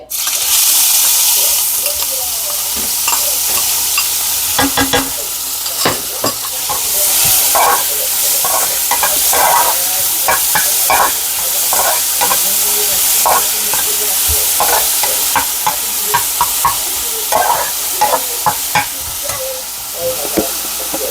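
Chopped onion frying with okra in a hot pan, a steady loud sizzle throughout with frequent stirring clatter and scrapes of a utensil against the metal.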